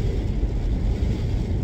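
Strong wind in Åre buffets the microphone with a low, rumbling roar, steady and close, with no voices.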